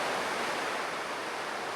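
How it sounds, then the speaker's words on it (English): River in full flood surging over a weir in the rain, a dense, steady broadband roar of rushing water heard close and loud for the whole stretch, with no voices. "The river is in full flow."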